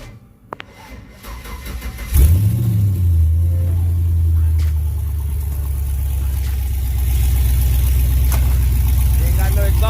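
A car engine cranks and fires, then runs loud and raw with no exhaust fitted, a steady rumbling idle close by that holds for several seconds.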